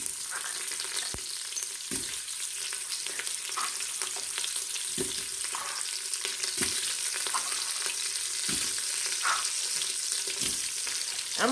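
Eckrich sausage browning in a hot Instant Pot, a steady bright sizzle with occasional soft stirring knocks and scrapes, close and continuous.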